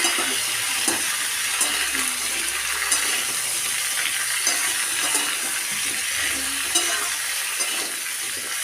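Kohlrabi, potatoes, cauliflower and green tomato fry together in a pan with a loud, continuous sizzle, broken by occasional scraping stirs and clatters of a spatula. No voices are heard.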